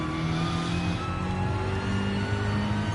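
Race car engine in GT Sport at Suzuka, a steady loud droning rev held under careful throttle, with no talk over it.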